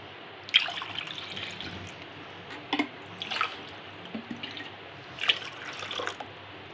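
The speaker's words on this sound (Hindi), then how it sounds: "अब हम इसमें और वाटर डाल देंगे।" Water poured into a sattu drink mixture in a vessel, soft splashing and trickling with a few louder plops and drips scattered across a quiet background.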